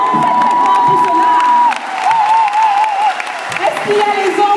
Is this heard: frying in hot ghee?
no